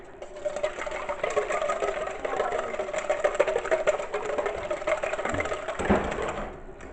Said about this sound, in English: All right, so 2 eggs. Give them a good whisk.